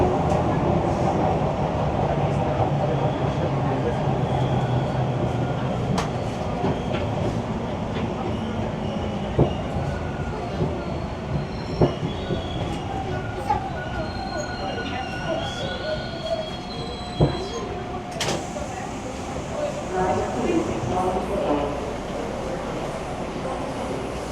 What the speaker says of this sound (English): Arriving at Dufferin Station.